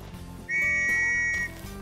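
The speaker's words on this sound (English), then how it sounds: "use your Chocobo whistle" In Final Fantasy XV, a Chocobo whistle sounds as a bright sustained two-tone note lasting about a second over a looping game music background.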